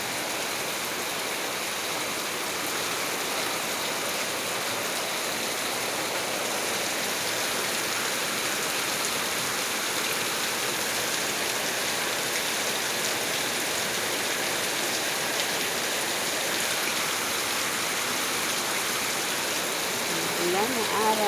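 Fairly heavy rain pours in a steady, dense hiss that stays even and unbroken for about twenty seconds.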